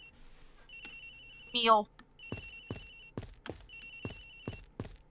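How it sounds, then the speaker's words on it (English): Telephone ringing inside the video game Ace Attorney Investigations, a repeated electronic ring in several bursts, with a brief spoken word partway through. "Agent Hicks' phone! It's ringing from somewhere, sir!"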